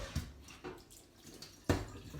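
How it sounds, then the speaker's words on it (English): Fried beans being drained through a strainer into a bowl, giving a few wet splashy pours and drips in short bursts, the loudest near the end, close by and with no talking. "I've just strained the beans off"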